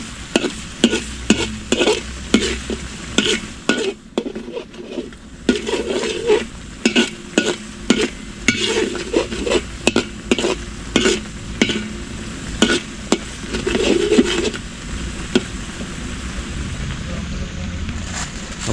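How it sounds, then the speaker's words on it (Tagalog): Garlic frying in a pan, seasoned with fish sauce: a continuous sizzle broken by frequent sharp scrapes and clanks of a utensil stirring against the pan, close and fairly loud. "Hintayin lang po natin na medyo maluto yung bawang."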